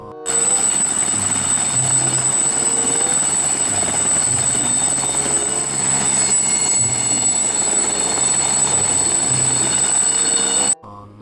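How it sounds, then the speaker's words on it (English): A toy helicopter from a Pixar Cars-themed set whirs steadily and loudly for about ten seconds with a high whine, continuous rotor-like buzz and periodic low pulses, then cuts off abruptly near the end. "Wow, helicopter."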